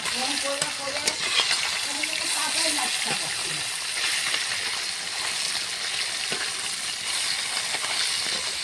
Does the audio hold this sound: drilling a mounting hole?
no